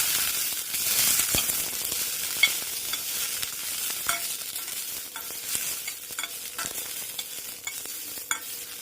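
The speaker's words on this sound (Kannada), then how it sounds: "ಸ್ವಲ್ಪ ಹಾಕ್ಬಿಟ್ಟು ಚೆನ್ನಾಗಿ ಮೆಣಸಿನ್ಕಾಯಿ ಫ್ರೈ ಆಗಲಿ ಅಂತ ಹೇಳಿ" Green chillies fry in hot oil in a pan for mutton biryani, giving off a dense crackling sizzle that eases gradually, with a few sharper pops and stirring scrapes, close and fairly loud.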